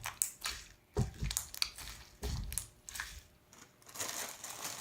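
Glittery zombie goop slime with googly eyes is squished and squeezed by hand, making close, soft crackling and squelching bursts in an uneven rhythm, with a rattly, maraca-like texture.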